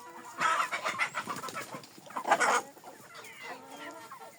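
Hens clucking and cackling close by, a busy run of short calls with a louder burst in the middle, no talking. The flock includes Livny, Jersey Giant, crested and bearded chickens.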